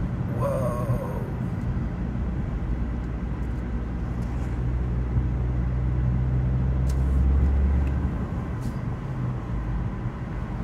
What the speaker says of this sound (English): Little 1 liter boosty noises coming off the rocks.